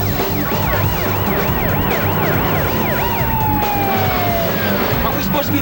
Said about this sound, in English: Now turn the damn siren on.